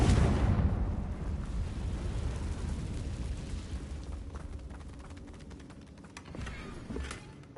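A Confringo fire spell explodes in the Hogwarts Legacy video game, opening with a loud deep boom that rumbles and fades over several seconds, followed by faint crackling debris.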